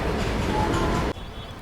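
The Brindavan Superfast express rushes past at high speed, a dense, loud roar of wheels and wind close by that cuts off sharply as the last coach clears, leaving a quieter rumble.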